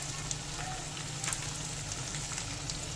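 Potato and eggplant frying in a pan for a fish curry, a soft continuous crackling sizzle with tiny pops, steady and close throughout.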